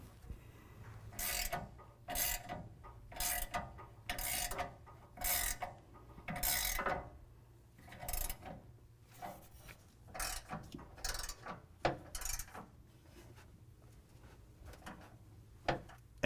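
Ratchet wrench tightening bolts on a Go Rhino BR20 rear bumper bracket with welded nuts on a 2019 Chevy Silverado 1500, sounding as close, repeated bursts of rapid clicking in an irregular rhythm, with quieter gaps between strokes.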